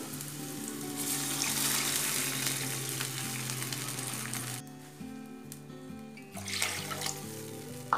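Water is poured into a hot pan of fried onions for wheat rava upma, and a steady sizzle shifts to a watery rush, then quiets before more splashing. The sound is close and fairly soft, with no talk.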